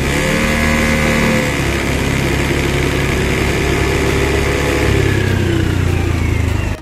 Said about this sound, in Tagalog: yung pagbaba ng kanyang RPM kapag ka po binibigyan natin o ginagamitan na natin ang silinyador